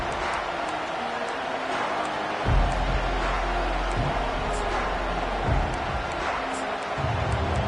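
A football stadium crowd gives off a continuous roaring wash of noise at an even level, with a few brief swells and some talk faintly underneath.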